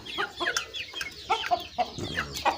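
Chicks eat feed and cluck nearby in a steady run of short, close calls, with some pecking sounds around them and no talk.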